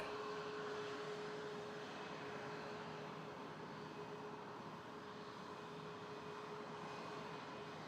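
Steady airplane engine drone at Toronto Pearson airport, a broad continuous roar with a faint tonal whine running through it, holding at an even level for the whole stretch with no talk.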